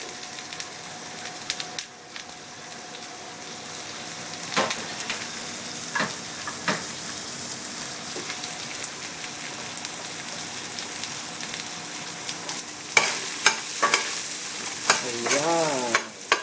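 Onions sautéing in a pan for Kapampangan menudo give a steady, close sizzle with scattered scrapes and clinks of stirring, busier near the end, with no voices.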